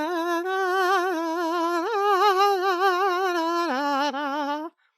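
A strained sung tone held under heavy vocal fold tension, a single loud sustained pitch that wavers and shifts in small jumps before giving out abruptly, close and alone without other sounds.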